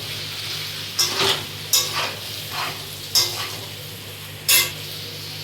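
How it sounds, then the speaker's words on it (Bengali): Potato and bori curry with Kashmiri chili powder is stirred in a pan, a spoon scraping in four or five short strokes over a steady low sizzle, near and clear with no talk. "এবার কাশ্মীর লঙ্কার গুঁড়ো দিয়ে আবার একটু আমি নাড়াচাড়া করে নেবো"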